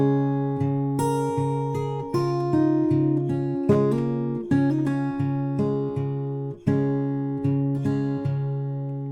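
Fingerpicked acoustic guitar plays the closing chorus line of a song, with a steady stream of plucked notes over repeating low bass notes, clear and close with no voices.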